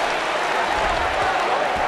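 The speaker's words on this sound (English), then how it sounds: "And the crowd responds." A crowd cheers and applauds in the fighting game UFC 2009 Undisputed, a dense, steady roar of many voices filling the whole moment at high volume.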